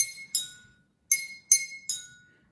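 Glasses holding different water levels, one empty, are struck in turn, giving four bright clinks at separate pitches, each ringing out and fading, heard close and alone.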